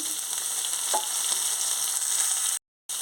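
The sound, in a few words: tomatoes added to a hot pan, sizzling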